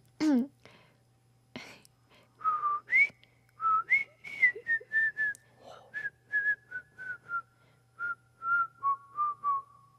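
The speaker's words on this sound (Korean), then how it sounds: "그 휘파람 멜로디 한번 불어주시면 안 돼요?" A person whistles a bouncy melody in short phrases, rising and falling, close and clear, after a few soft breathy sounds at the start.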